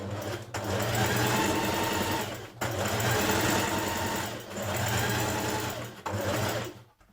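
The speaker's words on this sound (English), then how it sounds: "Now we're going to do 2 lines of gathering stitches between our notches on the front piece of your top." A domestic sewing machine runs lines of gathering stitches across the front piece of a New Look 6871 blouse, whirring in three steady bursts separated by short pauses, close and clear.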